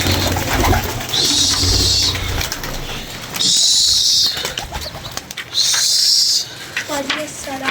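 Pigeons outdoors in a rooftop pigeon-flying setting, with several loud bursts of flapping wings in a repeating rhythm and some cooing and low background noise between them.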